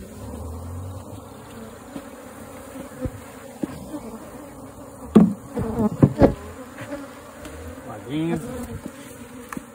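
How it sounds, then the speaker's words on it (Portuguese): A bee swarm hums steadily inside a hollow tree trunk during a hive rescue, a continuous close buzz with louder bursts of activity and handling noises midway, while a person speaks briefly. "E nós vamos salvar esse enxame também."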